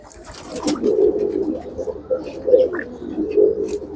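Pigeons coo in low, repeated throaty phrases while feeding nearby, several soft rounded calls spaced across a few seconds against a quiet background.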